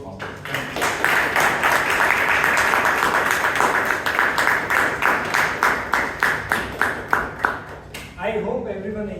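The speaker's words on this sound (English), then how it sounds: "A big round of applause to all of you." A crowd applauds steadily for several seconds at a Toastmasters club meeting, the clapping thinning into separate claps before it stops.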